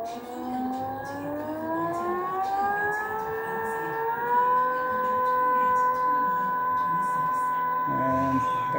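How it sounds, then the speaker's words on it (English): An electric motor drives the PTO on a David Brown tractor converted to electric power. It gives a rising whine that climbs in pitch, then holds a steady tone, with a brief shift near the end. "if we just turn up the control for the PTO, that motor should kick into life"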